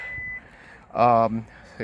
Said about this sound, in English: You hear the beep. That means it's working, and it really was the button.